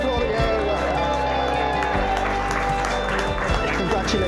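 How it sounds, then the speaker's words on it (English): Wedding guests at a clifftop church ceremony clap and cheer after the couple's kiss, a dense burst of applause mixed with crowd voices and talk nearby. "You're going to applaud it?"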